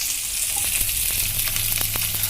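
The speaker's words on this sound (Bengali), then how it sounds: "এবার পেঁয়াজগুলো সব দিয়ে দেবো" Chopped onions frying in a hot pan for a yogurt chicken dish, a dense, steady, close sizzle with a few soft stirring scrapes and no talk.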